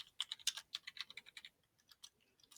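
Quick bursts of typing on a computer keyboard, close and quiet, with rapid uneven keystrokes that cluster early and thin out toward the end.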